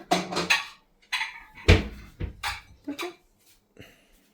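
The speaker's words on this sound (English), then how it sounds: "He made it himself, and now he's cutting it." A child cutting a buttered sandwich with a knife, giving sporadic clinks, taps and knocks of a blade against a plate at close range, with short quiet gaps between strokes.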